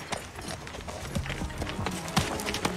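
A horse's hooves clip-clop in an irregular rhythm at moderate distance, in a dramatic film scene with faint background noise.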